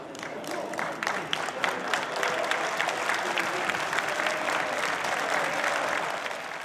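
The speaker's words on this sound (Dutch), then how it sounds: "Met applaus van zo'n 150 onwijzige fans komen de Cambuurspelers het veld op." About 150 football fans of SC Cambuur applaud as the players walk onto the field for the first training session of the season, with sustained clapping and some crowd noise, loud and continuous throughout.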